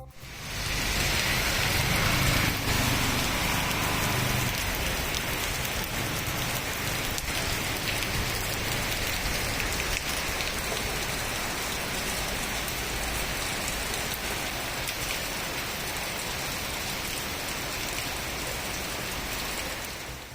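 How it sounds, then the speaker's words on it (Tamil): Light early-morning rain falls steadily, making a dense, even hiss of drops on surfaces that stays constant for the whole stretch, with no voices. "அதிகாலை லேசான மழை பெய்தது"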